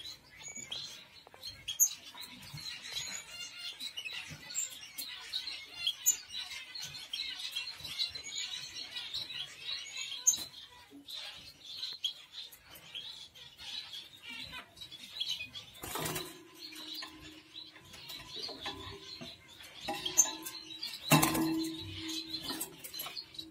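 Small birds chirp and flutter in a breeding aviary, a steady, busy twittering with scattered light clinks and wing flaps, plus a couple of louder close thumps, without talking.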